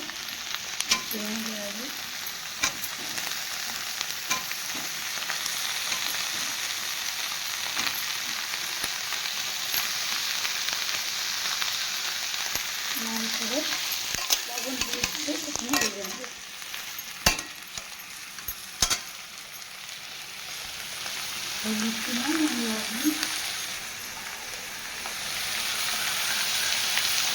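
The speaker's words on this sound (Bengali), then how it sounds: "তো আলুগুলো লাল ভাজা ভাজা হয়ে গেলে" Potatoes for a jackfruit curry frying in hot oil, a dense continuous sizzle with occasional sharp crackles and spatula scrapes, close by, with brief murmured words in between.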